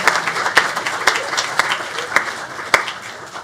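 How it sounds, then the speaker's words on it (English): Audience at a demo day showcase applauding, steady mid-sized clapping with a few louder claps standing out, continuous throughout. "let's give them a round of applause"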